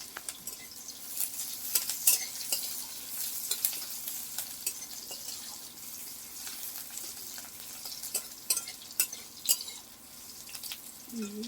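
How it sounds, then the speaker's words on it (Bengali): Spice paste and onion frying in oil for a tomato and rohu fish curry, a faint, continuous sizzle broken by scattered scraping and stirring clicks, with no one speaking. "মশলাটি একটু ভালো করে একটু ভেজে নেবে"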